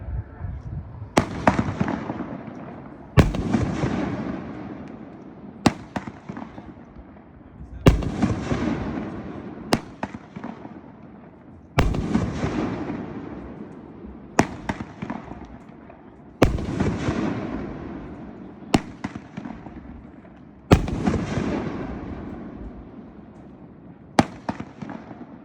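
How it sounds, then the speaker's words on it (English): A Pyro Diablo Dead Shot 500 gram firework cake fires a series of about ten loud, sharp bursts, each launch followed by a crackling, decaying tail, evenly spaced across the display with no talk. "Number 10, it's Dead Shot, a Pyro Diablo item,"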